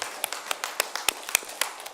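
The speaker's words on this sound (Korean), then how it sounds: "하나님께 영광의 박수 올려드리겠습니다" Sparse, uneven claps from a church congregation during a Korean Sunday worship service, a dozen or so sharp individual hand claps scattered at irregular intervals rather than a full ovation, moderately near.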